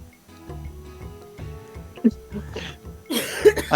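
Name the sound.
cough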